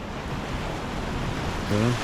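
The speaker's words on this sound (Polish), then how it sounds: "rzeczka troszkę przybrała i zrobiła się taka rwąca rzeka" Broad, steady rushing water roars continuously, like a swollen mountain stream in spate in autumn, loud and close with a faint tonal hum near the end.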